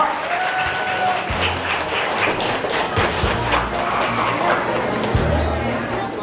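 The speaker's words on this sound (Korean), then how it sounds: "박수 주시면 감사하겠습니다." Guests at a first-birthday party in a banquet hall applaud steadily and fairly close, with scattered thumps and a few voices chattering beneath the clapping throughout.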